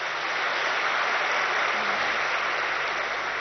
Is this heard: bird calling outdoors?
no